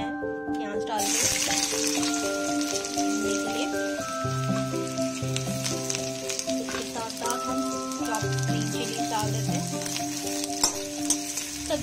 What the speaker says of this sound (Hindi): इसी मीडियम फ्लेम में मैं प्याज डाल दूँ।